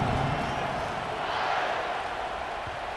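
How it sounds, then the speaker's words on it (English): A college football stadium crowd at Michigan Wolverines vs Texas Longhorns buzzes after a score, a dense, steady roar of many voices filling the whole clip, with a commentator's voice faintly mixed in. "this crowd is buzzing after that last score"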